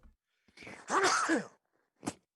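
One person gives a single close sneeze, a short sharp burst with a quick intake before it and a faint trailing breath afterward, in an otherwise quiet room.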